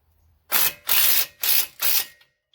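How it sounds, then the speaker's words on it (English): Four quick bursts of a ratchet wrench tightening the nut on a Subaru strut during tie rod and strut replacement, each a rapid clicking run with brief pauses between, close and fairly loud. "And I'll hold this and tighten the nut."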